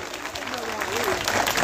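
An audience at a Paraguayan acrobatic stage show claps in a dense, continuous burst of applause, with a voice faintly heard beneath it.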